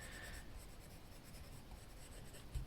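Colored pencil burnishing on paper, a continuous soft, close scratching and rubbing with steady back-and-forth strokes, quiet throughout.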